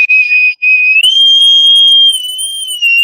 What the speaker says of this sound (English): Time for a whistle.